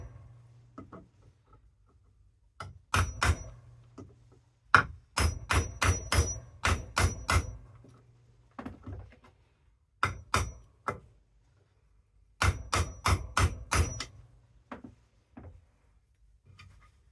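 Bursts of sharp hammer blows setting rivets on a timber block for a leather axe cover, rapid groups of four to six strikes separated by short pauses, close and crisp in a quiet room.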